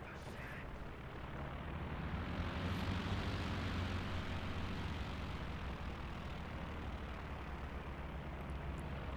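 Warplanes in a video game sweep in on an attack run, a loud continuous broadband engine roar that swells slightly and holds steady throughout, with rumbling low end like distant explosions beneath it.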